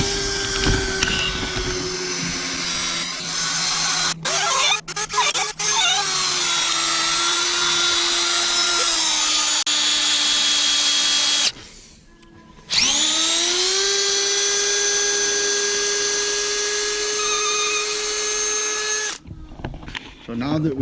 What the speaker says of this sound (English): So now that we've drilled all the way through this